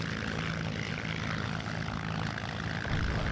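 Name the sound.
propeller aircraft taxiing in IL-2 video game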